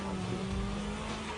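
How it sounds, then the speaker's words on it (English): Mid-engine car accelerating hard while still sliding in a drift, a steady loud engine roar with droning harmonics throughout, with no talk. "But you hit the gas while the car is still sliding."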